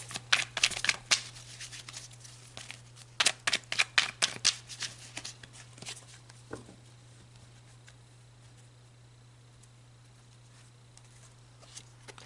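Tarot-style love oracle cards being pulled and shuffled, a burst of crisp riffling and card slaps in the first half, then quieter handling with a steady low hum underneath; no talking.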